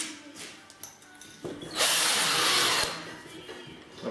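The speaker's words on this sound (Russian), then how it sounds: "засверлить сначала тонким сверлом" A power drill with a thin bit boring a pilot hole near a windowsill, whirring briefly at first, then a loud, steady drilling burst lasting about a second before stopping.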